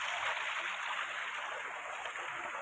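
Water from a running motor pump pours steadily into a tank, a dense continuous rushing flow with no pauses.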